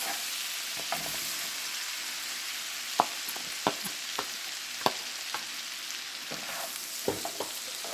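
Peppers and onions sizzle steadily in a hot pan, a bright continuous hiss broken by sharp clicks and taps from stirring, close and moderately loud with no talking.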